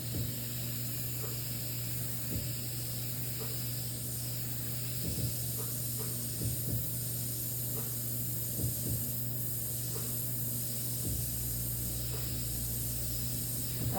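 An airbrush sprays paint in a steady faint hiss over a constant low background hum, with a few soft clicks scattered throughout and no talking.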